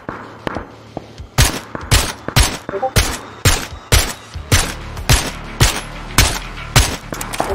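Rapid rifle fire from a squad-based battle-royale shooter game, a dozen or so loud sharp shots in uneven bursts spread across the moment, standing out clearly with no talking over them.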